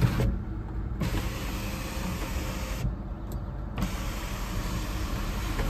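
Electric sunroof motor on a Nissan Altima 2.5 SL running in two separate bursts, a steady close whirring hum inside the cabin with a brief quiet gap between the runs.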